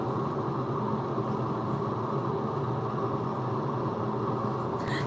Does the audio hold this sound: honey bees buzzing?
no